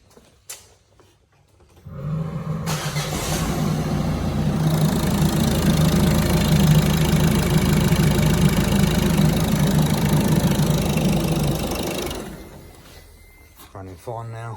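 A Peugeot/Citroen 1.6 HDI diesel engine, freshly rebuilt at the top end, cranks and starts, then idles steadily with a low rumble and clatter for about ten seconds before shutting off.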